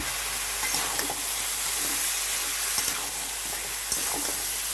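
Masala being stirred into chicken meat in a hot pan, giving a steady close sizzle and hiss with a few soft scrapes of the spoon, and no talk.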